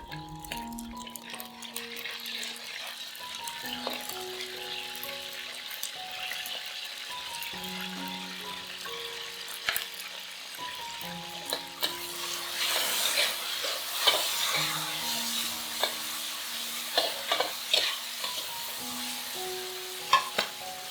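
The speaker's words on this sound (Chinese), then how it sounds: "直接在油里面淋一点老抽和蚝油，油温会立即把酱油和蚝油里的风味物质激发出来" Dark soy sauce and oyster sauce hit hot oil while braising tofu puffs, a steady fizzing sizzle with spatula stirring and scraping clicks, fairly close and moderate in level, with a faint melodic background underneath.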